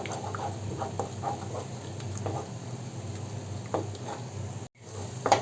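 Egg being stirred with salt and pepper in a pan: soft scraping strokes and light clicks over a faint sizzle, close and quiet, with a brief dropout near the end.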